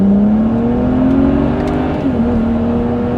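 A small car with a stage 2 tune and downpipe accelerating, heard from inside as a loud steady engine drone that climbs in pitch, dips briefly at a gear change and climbs again.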